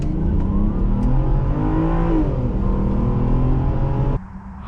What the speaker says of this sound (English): Today we are driving a 2011 Volvo XC60 T6 on our channel